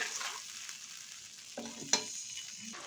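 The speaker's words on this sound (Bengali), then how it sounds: "এবার এর মধ্যে আমি দিয়ে দিচ্ছি আদা আর কাঁচা লঙ্কা বাটা কিছুক্ষণ একটু এভাবে কষিয়ে নেব" Ginger and green chili paste cooking down with softened tomato in a pan for a fish curry with cauliflower, a quiet fry with a few soft stirring scrapes and one sharper clink near the end.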